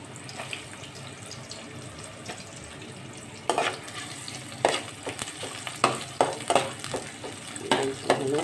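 Onion and garlic fry in a pan for a countryside bitter gourd dish while a spoon stirs them, with irregular scraping strokes over a steady, close sizzle.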